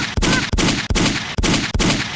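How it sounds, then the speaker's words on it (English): Gunshot sound effect played from a soundboard: five loud, close bursts of rapid gunfire in quick succession, each separated by a brief gap, with no voices over them. "Give it a gunshot."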